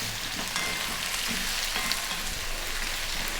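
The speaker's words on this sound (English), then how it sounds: "another 3 minutes on this above medium heat, stirring" Carrot and chopped garlic frying in a pan over medium-high heat while being stirred, a dense, steady sizzling hiss with soft scraping strokes running underneath, close and continuous, with no voices.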